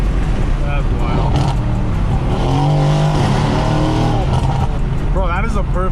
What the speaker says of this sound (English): Bro, that is a perfect V8 sound.